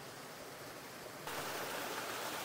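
Water from a spring flows steadily near an old house, a continuous soft rushing hiss that grows a little louder midway, fairly quiet and with no voices.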